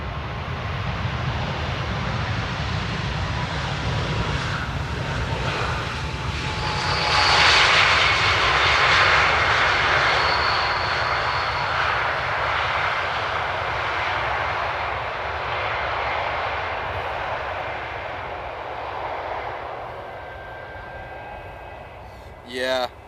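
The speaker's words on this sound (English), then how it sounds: "737 with an A321. That was a rough one." An airliner lands in a crosswind at Amsterdam Airport, its engines roaring loud and close, swelling to a peak midway and then slowly fading as the jet rolls away.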